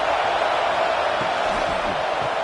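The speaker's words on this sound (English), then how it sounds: "This crowd bringing the energy and noise early." Stadium crowd at a college football game between Mississippi State and Arkansas, a dense continuous roar of many voices filling the space, steady and loud throughout.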